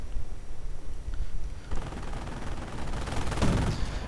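Autocannon and machine gun fire from an armored vehicle in a 1v1 World War II strategy game match, loud rapid bursts with a heavy burst building near the end.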